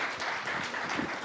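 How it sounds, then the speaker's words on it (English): Brief applause from an audience at a tech start-up event in India, a dense, steady patter of many clapping hands at moderate level. "A big round of applause"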